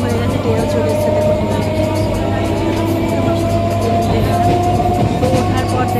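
A train pulling into a station, a loud, steady rumble with a low hum and faint rail noise throughout, close by, with indistinct voices mixed in.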